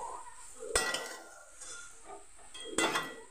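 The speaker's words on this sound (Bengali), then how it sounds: "তো এটাকে আমি ভালো করে নাড়িয়ে চাড়িয়ে কষিয়ে নেবো" Spiced vegetables being stirred and fried in a pan, with a spoon scraping and clinking against the metal twice, sharply, over a faint sizzle.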